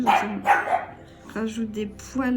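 A dog barks in sharp bursts close by, a few loud woofs mixed with someone speaking over them.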